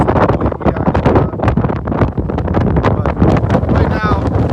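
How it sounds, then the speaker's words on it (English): Strong hurricane wind gusts, around 20 mph, buffet a microphone on the Charleston waterfront during Hurricane Ian, a loud continuous roar with surging peaks while someone talks over it throughout. "we've got probably a 20-mile-an-hour gust coming at us right now"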